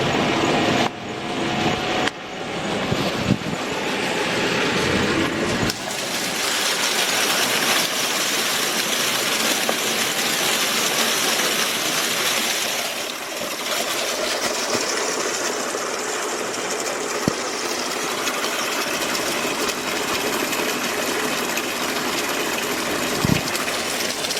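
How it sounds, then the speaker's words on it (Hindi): A tubewell's electric motor runs in Pakistan, pumping water through a small pipe: a continuous close hum mixed with broad rushing, splashing water that starts choppy and uneven, then settles into a steady gush. "अब ये मोटर चल रही है, आप देख रहे हैं।"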